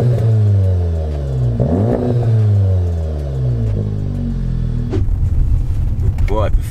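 Seat Leon Cupra 300 pulling away onto the road, its engine revving up through rising, falling gear pulls with a loud close cabin drone, a clunk near the end and a voice speaking over it.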